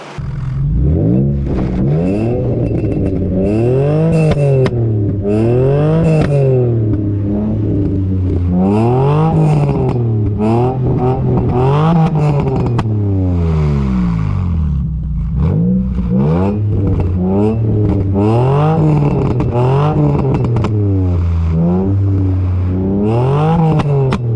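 A Nissan 350Z V6 engine revs hard again and again, loud and close, its pitch climbing and dropping in repeated sweeping bursts with no talking.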